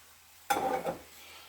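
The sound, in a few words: stirring chopped parsley mixture for bruschetta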